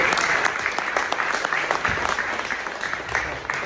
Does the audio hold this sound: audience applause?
yes